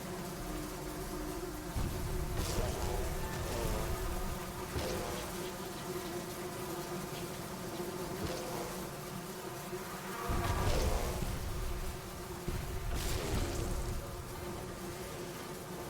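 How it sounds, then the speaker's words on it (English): Buzzing of hive courser bees in the game Sunless Skies, a continuous insect drone that swells in several louder bursts, including one near the middle, with no voices over it. "Hive courser bees."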